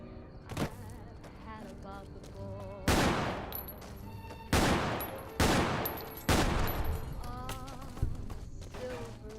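A golden Desert Eagle pistol fired in the video game Fallout: New Vegas: five or six loud, sharp single shots spaced a second or two apart, each with a booming tail, between softer clicks and steps.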